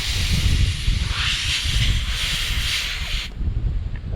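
Air rushing out of an off-road vehicle's tire with the valve core removed to lower pressure for dune driving, a steady loud hiss for about three seconds before cutting off, with wind noise underneath.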